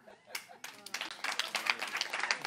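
Scattered claps from a comedy audience at a live show, starting sparse after a spoken line and swelling into lively, uneven applause with a few sharp hand strikes standing out.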